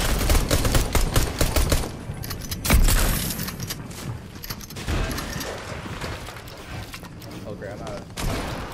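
Pistol gunfire in a shooter video game, heard as a rapid run of sharp, loud shots at the start and then scattered bursts and mechanical clatter, with game noise throughout.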